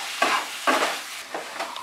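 Masala for a potato and papaya dalna is stirred in a pan over medium flame: four distinct scraping strokes, each with a short sizzle, close and alone.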